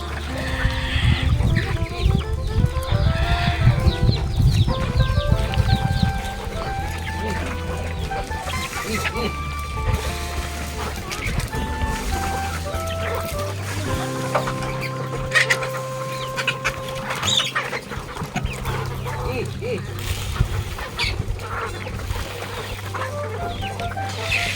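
Hens and roosters cluck and squawk loudly and continuously at an open poultry farm during feeding, close to the listener, with voices talking and some music over them.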